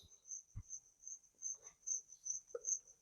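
Insects drawn to a light trap in the dead of night: a cricket chirps in a steady pulsing trill, faint but clear, with a few soft knocks and rustles around it.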